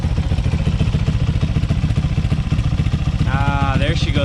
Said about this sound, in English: there she goes, idling nice and smooth now